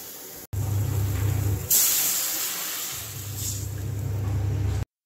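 A pressure cooker holding elephant foot yam vents a loud, continuous hiss of steam with a low rumbling hum beneath it, the jet surging stronger partway through and then cutting off abruptly.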